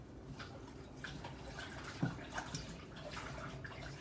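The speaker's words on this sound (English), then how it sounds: "let me get my dish rinsed out here" Running tap water splashes steadily as a cornbread bowl is rinsed in a kitchen sink, with a few louder splashes and clinks partway through, all fairly faint and close.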